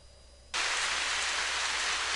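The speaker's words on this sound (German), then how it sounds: "Och, jetzt regnet es wieder und sie steht auf." Rain in the video game The Path starts abruptly after a half-second of quiet, then falls as a steady, dense hiss that fills the rest of the clip.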